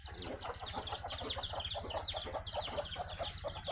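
Busy poultry noise: many country chickens clucking and calling at once on a dairy farm, a steady dense chorus with a low rhythmic hum underneath.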